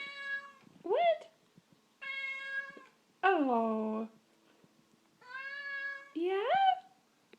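An indoor cat meows several times in a row, long drawn-out calls spaced by short pauses, close and clear in a quiet room, with a brief word spoken once.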